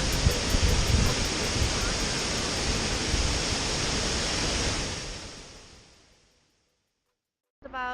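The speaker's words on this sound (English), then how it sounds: "now we've come to Depang waterfalls" Dongpang waterfall on the Bolaven Plateau in Laos pours with a dense, steady roar, loud and close, that fades away toward the end before a short burst of other sound.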